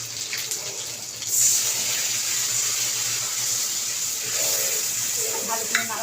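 Spices frying and being stirred in a pan over a gas flame, a steady close sizzle with soft scraping that runs unbroken throughout, with a faint voice at times beneath it.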